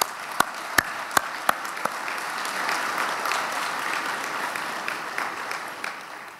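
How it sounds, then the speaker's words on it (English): A few sharp, separate claps open, then swell into sustained applause from a small crowd at a university faculty convocation that gradually thins out. "A round of applause"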